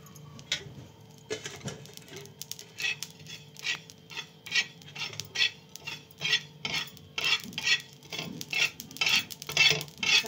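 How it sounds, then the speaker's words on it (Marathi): Half a spoon each of shahjeera and plain cumin seeds dry-roasting in a pan, with a steady run of light scraping and stirring strokes of a spoon against the metal, close and moderately loud, speeding up toward the end. "अर्धा चमचा शहाजिरे आणि अर्धा चमचा साधे जिरे आता आपण भाजून घेऊ।"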